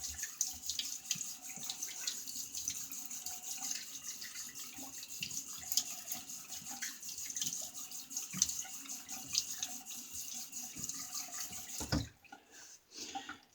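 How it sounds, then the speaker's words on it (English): A bathroom tap runs steadily as a razor is rinsed during a wet shave, a constant close hiss of flowing water that cuts off near the end with a few faint knocks. "let me get a quick rinse."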